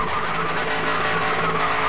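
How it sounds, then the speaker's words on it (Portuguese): A car in the Grid 2 racing game spins under the handbrake, its tires skidding continuously with a loud, sustained rasping squeal over engine noise, filling the whole moment without any speech. "Agora eu vou dar um cavalo de pau aqui."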